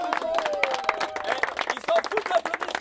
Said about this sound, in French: Un tonnerre d'applaudissements pour des gens généreux